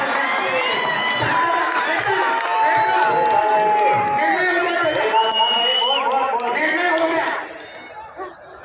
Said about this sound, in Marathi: विजय डिक्लेअर केल्यानंतर समर्थकांनी विजयाचा जल्लोष करा